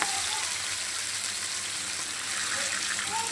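Food fries in a pan with a steady hiss and crackle that holds at an even level throughout, with no voices.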